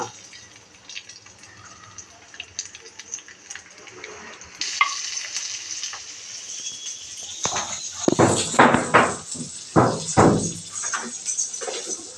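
Oil sizzles and crackles steadily, growing louder and busier as mustard seeds, fenugreek, cumin and crushed garlic go in, with bursts of spattering toward the end.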